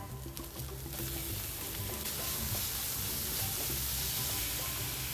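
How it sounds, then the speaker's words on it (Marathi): Grated beetroot hits a pan where garlic has been frying, setting off a steady soft sizzle with faint stirring scrapes, fairly quiet and even throughout. "एक बारीक किसलेला बीट टाकणार आहे।"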